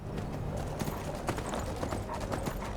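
A horse's hooves clip-clop in a steady trotting rhythm in the video game Skyrim, close and continuous over a dense background wash with no talk.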